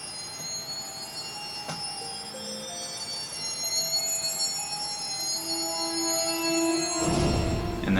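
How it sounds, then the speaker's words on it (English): Soft, eerie chimes and ringing bells from a game soundtrack's forest theme sound sparsely over a hushed background, ending with a brief louder swell. "you just kind of have these like chimes and these bells"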